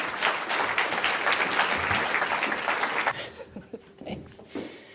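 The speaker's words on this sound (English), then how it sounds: "A big round of applause, please." Audience applause welcoming a speaker at the NZ Pain Foundation launch, dense steady clapping for about three seconds before quickly thinning out to a few scattered claps.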